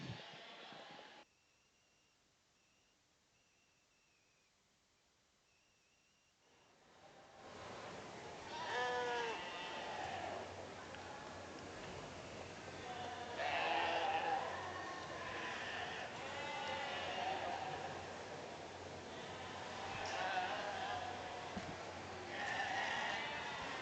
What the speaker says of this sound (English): I'd sure take a look at this set of sheep